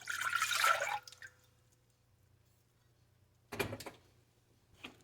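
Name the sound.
elderberry juice being poured into a pot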